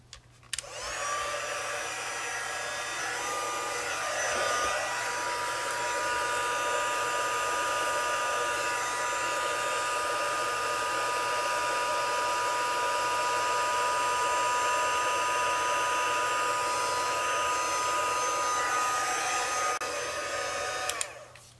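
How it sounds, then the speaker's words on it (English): A crafting heat tool melting embossing powder on a stamped card, a steady loud blowing hum that runs alone for about twenty seconds before switching off. "I need to heat set it with my heat tool to melt the embossing powder."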